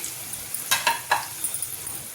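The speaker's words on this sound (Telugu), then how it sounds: "కొంచెం నెయ్యి, ఒక 2 టేబుల్ స్పూన్ నెయ్యి వేస్తున్నానండి" Two tablespoons of ghee hitting hot spices and asafoetida for temple-style pulihora, a brief soft sizzle with a few light clatters of stirring.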